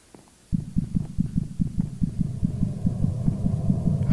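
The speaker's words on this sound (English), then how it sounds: "I can hear my heartbeat." A steady, thudding heartbeat in the horror video game The Orphanage starts abruptly and pulses in rapid, even double beats, loud and low against a faint background hum.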